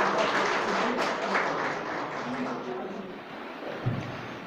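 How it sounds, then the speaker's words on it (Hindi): A crowd at a gathering about journalists breaks into applause, a thick wash of clapping that starts loud and slowly fades over a few seconds, with faint voices mixed in. "बार जोरदार तालियां प्लीज़।"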